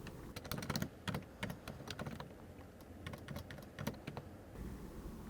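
Rapid bursts of keystrokes on a computer keyboard while entering an accounting voucher in Douzone Smart A software, close and clear, with irregular clusters of clicks and brief pauses.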